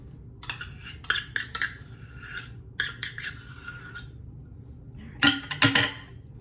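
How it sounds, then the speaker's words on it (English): Chunky peanut butter is smashed down into a bowl for gluten-free breakfast cookies, with a series of close scraping, clinking utensil strokes in short bursts and pauses and no talk. "I'm gonna try a half a cup, just kind of smash it down in there."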